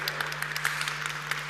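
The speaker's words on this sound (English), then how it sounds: "the applause is up for you" Audience applause at an economic forum in Chișinău, a steady patter of clapping over a constant low mains hum, moderately faint and continuous without speech.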